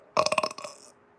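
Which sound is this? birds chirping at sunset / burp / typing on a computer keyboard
burp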